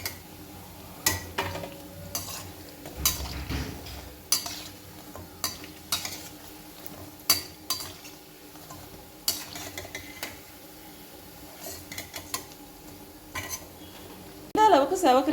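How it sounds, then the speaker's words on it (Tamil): Bread pieces fry in a pan for bread halwa, with a soft sizzle under repeated sharp clinks and scrapes of a utensil stirring and turning them, close by and irregular. "மீதம் இருக்கிற பிரெட் துண்டுகளையும் பொரிச்சு எடுத்துக்கலாம்"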